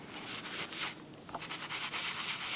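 A rag wipes ink off the embossed surface of a card, making a close, soft scrubbing swish in repeated uneven strokes that rise and fall across the moment.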